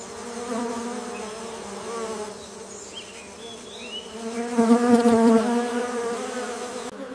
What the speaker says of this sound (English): Honeybees hover among red ginger foam.